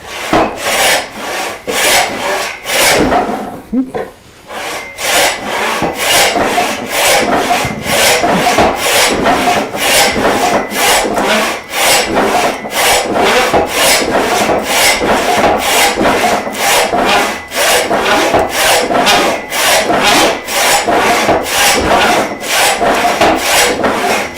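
A hand saw resaws a wooden beam lengthwise in steady, rhythmic back-and-forth strokes, loud and close, with one brief pause near the start before the cutting resumes without talk.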